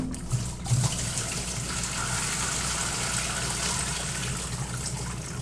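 Water gushes and splashes steadily as it drains from a bowl of potatoes and carrots, a close, continuous pour with a few brief knocks early on.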